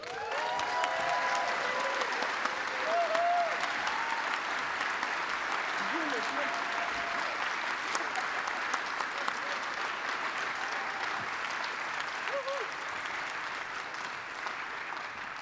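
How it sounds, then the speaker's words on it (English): Sustained audience applause at an award ceremony for the Women in Drupal award winner, a dense steady wash of clapping from a large crowd, with some faint voices and cheers mixed in. "Please give a big applause to our winner,"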